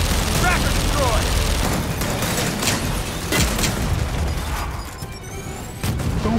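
Tracker explosions in Gears of War 4: loud booms and blasts amid ongoing gunfire and battle noise, a few heavy bursts standing out from a dense, continuous din.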